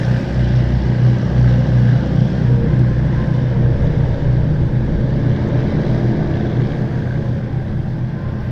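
An aircraft heads for runway 23 at Southend Airport, its engine a loud, steady low rumble and roar that holds throughout and eases only slightly toward the end.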